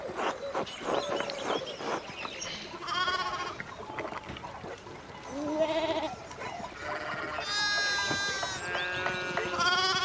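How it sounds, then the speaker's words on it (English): Sheep in the game Pentiment bleat repeatedly and loudly, several overlapping calls of varying pitch over a busy outdoor farm background with faint birdsong. "one of the fence rails fell off. Well, and sheep started hopping it."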